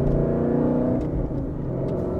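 A manual-transmission car rolling at about quarter throttle, its engine droning loud and close, the pitch dipping briefly as the gear shifts midway before settling into a steady rumble; no speech.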